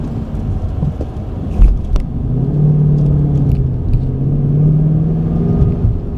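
2015 Ford Mustang GT V8 driving, a loud deep engine rumble heard from inside with a rising rev that settles into a steady drone, a few bumps and clicks, no talk.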